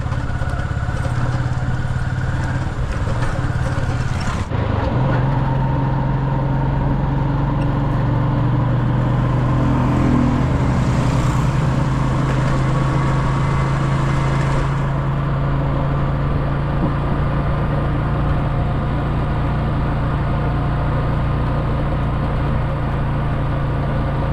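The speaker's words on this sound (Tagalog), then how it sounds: "Kailangan na yan muna mag-init yung makina" An engine idles steadily while warming up, a constant low rumble with a faint rattle running through the whole stretch, fairly close, with no talking.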